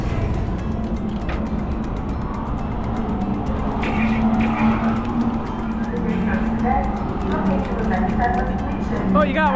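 Go-karts drive around a speedway track aboard the Norwegian Prima cruise ship, engines droning steadily nearby with occasional tire squeals and passing whines, while people talk over the motor noise.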